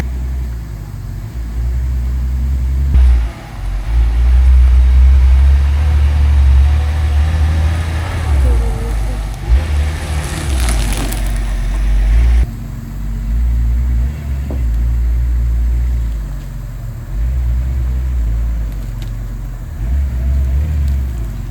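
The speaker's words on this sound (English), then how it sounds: "We're gonna try to move the car." An old car, stored for about 20 years, is driven out with its engine rumbling low and steady throughout, loud and close, with brief shifts in tone as it moves and faint voices now and then.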